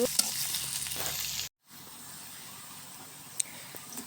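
Minced garlic sizzles in a hot pan while being stirred, a close, steady hiss with a few light scrapes, broken by a brief moment of silence before the frying noise resumes.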